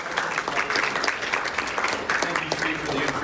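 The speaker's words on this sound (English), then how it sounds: "Please welcome with a big round of applause," Audience applause greets Dr. Matt Hanka at a liberal arts faculty colloquium, a steady, fairly dense clapping that runs the full three seconds while voices murmur faintly underneath.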